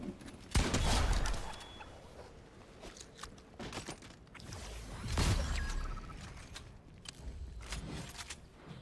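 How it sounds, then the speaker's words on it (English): Chicken clucking and squawking in the video game Fortnite, a few loud fowl outbursts mixed with game footsteps and mechanical clatter, rising and falling in bursts with no talk. "I hear a monkey. No, it's a chicken."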